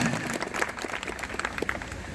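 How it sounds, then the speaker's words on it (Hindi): Audience applause at a corporate award ceremony honoring Diamond Star achievers, a steady wash of many hands clapping at moderate loudness for about two seconds with no talk over it. "एक बार जोरदार तालियां हो जाए"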